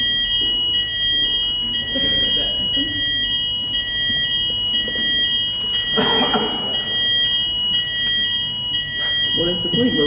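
A fire alarm sounds continuously with a steady, piercing electronic tone, while people talk and murmur in the room underneath.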